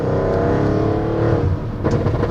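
An Audi RS7's exhaust roars loudly as the engine accelerates, a deep rising growl close by, briefly easing before pulling again.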